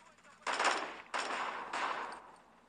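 Three separate bursts of rapid automatic fire from an AK-12 assault rifle in the shooter game Bullet Force, each burst lasting about half a second, with short pauses between them.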